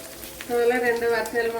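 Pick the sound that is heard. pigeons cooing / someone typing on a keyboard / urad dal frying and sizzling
urad dal frying and sizzling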